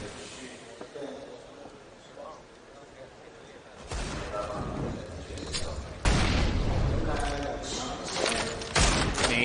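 A grenade goes off during a Counter-Strike match between Renegades and Ninjas in Pyjamas, with heavy thuds and booms among gunfire and game noise, moderately loud and building toward the end.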